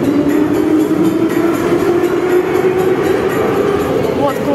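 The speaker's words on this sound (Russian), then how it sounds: "Отправление со станции Кузнецкий мост." A passenger train departing Kuznetsky Most station rumbles steadily with a low mechanical drone and faint rattling, continuous and fairly loud, as if moving past close by.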